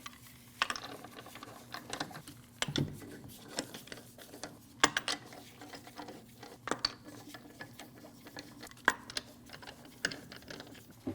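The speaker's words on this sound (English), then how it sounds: "Put your lug nuts on by hand." Lug nuts threaded by hand onto the wheel studs of a 2012-2016 Honda CR-V, heard as scattered light metallic clicks and ratcheting ticks, close and fairly quiet, spread irregularly across the span.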